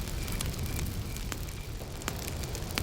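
Crackling campfire ambience, a steady dense rush of flames with occasional sharp pops and snaps, continuous and even in level with no voices.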